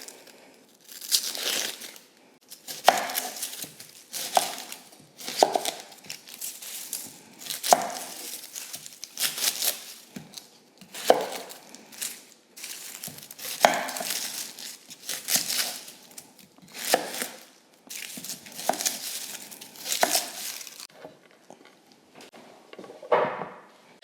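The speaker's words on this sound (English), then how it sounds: "cut the tops off, get the skins off, and then I will rinse these onions before I slice into them" Papery dry skins are torn and peeled from homegrown onions in a kitchen, giving repeated crinkling, ripping bursts with brief pauses between, close and fairly loud, with no talking.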